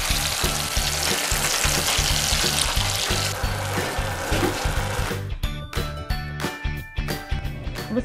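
Butter added to hot melted-sugar caramel in a skillet just off the stove sizzles loudly and continuously, then settles into lighter crackles and popping bubbles.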